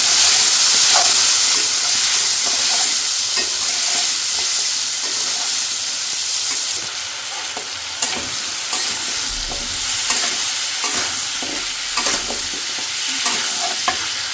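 Eggs frying in hot oil in a home kitchen pan give a steady, close sizzle and hiss, broken by sharp crackles and pops and occasional spatula scrapes throughout.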